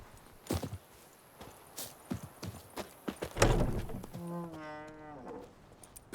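In The Witcher 3 video game, the horse Roach clops along with a steady rhythm of close, crisp hooves. A whinny follows near the end.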